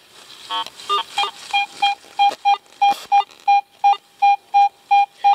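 A metal detector over a coin buried among roots under an orange tree in Florida woods emits a steady series of short, evenly spaced electronic beeps, about a dozen in a row, clear and close.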